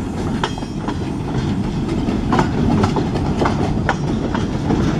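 Steady rumble and rhythmic clickety-clack of a short Escanaba and Lake Superior Railroad train's cars rolling by close, with occasional metallic clanks over the continuous roar.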